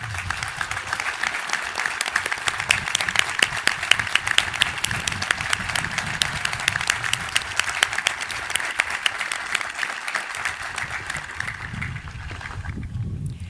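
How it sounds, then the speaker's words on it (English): Crowd applause for school staff at an outdoor high school commencement ceremony, a steady, fairly distant patter of many hands over low wind rumble, tapering near the end. "Could we please give a special applause for our staff members?"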